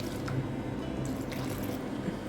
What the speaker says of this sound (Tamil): தண்ணி சேர்க்க போகிறேன்.